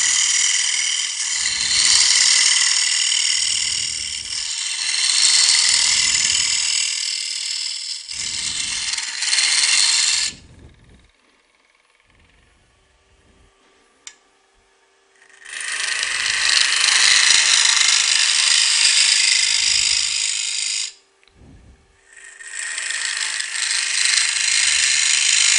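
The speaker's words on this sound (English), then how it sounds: "Now we use a spindle gouge to remove some of the waste." A spindle gouge cuts wood on a turning lathe, hollowing out the inside of a piece. A loud, rattling cut runs for several seconds, stops for a quiet pause, then resumes in long bursts.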